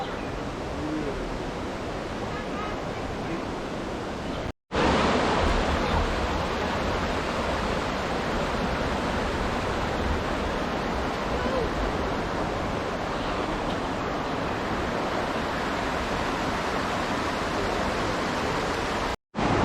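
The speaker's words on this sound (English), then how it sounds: "River, where the river flows." A cool creek flowing through a North Carolina hiking area, a steady, full broadband rush of moving water that fills the whole recording close to the microphone, briefly cut out once, with no voices.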